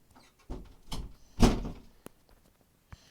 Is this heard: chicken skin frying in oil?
no